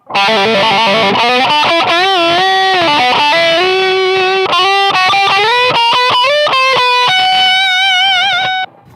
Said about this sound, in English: here is the lead sound dry